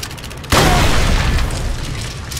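A single loud, close grenade blast in Call of Duty 3 on Xbox 360, a sudden boom followed by a long rumbling decay.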